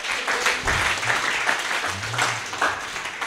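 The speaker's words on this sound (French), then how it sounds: "Applaudissez le roi." A church congregation claps loudly and steadily, with voices calling out over the applause.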